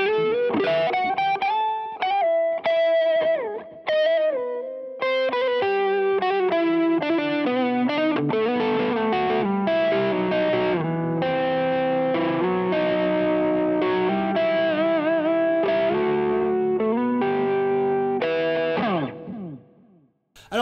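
An electric guitar plays a distorted lead through a Modern Radio Solo amp preset, a melodic run of sustained, bending notes for about nineteen seconds, loud and clear with no talking, ending in a brief fade.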